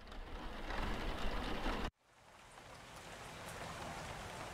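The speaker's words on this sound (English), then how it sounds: "And it's raining." Steady rain falls in the horror video game VHS Slaughter, a dense hiss that cuts off abruptly and then returns as a softer, continuous downpour.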